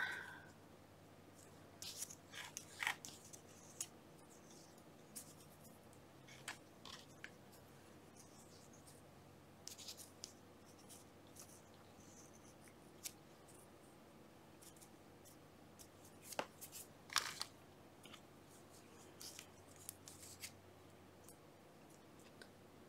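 Scissors snipping book page paper into a heart shape, sparse quiet cuts spread out with pauses between them, close and soft with no talking.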